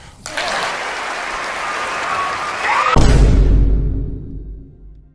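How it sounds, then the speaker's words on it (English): Loud, dense audience applause during a comedy set, sustained for a few seconds and then cut off by a low, heavy rumbling swell that fades away. "Please clap."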